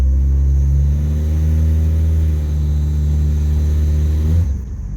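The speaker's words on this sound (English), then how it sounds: "Don't worry, that's my alternator belt that you hear." A PT Cruiser engine with Megasquirt engine management rumbles loudly and steadily with a whining alternator belt tone over it, then the pitch shifts abruptly near the end.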